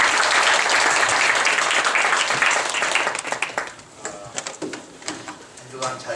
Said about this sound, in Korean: 찬양팀 격려의 박수.